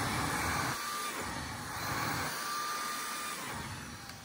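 Electric carpet shaver trimming the pile of a tufted rug, a steady close motor whir with a high buzzing hum that holds level throughout with no talking.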